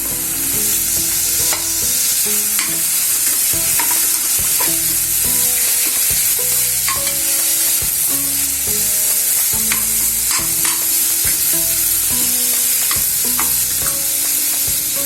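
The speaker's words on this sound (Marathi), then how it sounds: "हा खोबऱ्याचा पीस म्हणजे आपल्याला चांगलं परतून घ्यायचं आहे" Coconut pieces sauté in a hot pan with a continuous loud sizzle and frequent scraping stirs close up, over what sounds like soft background music.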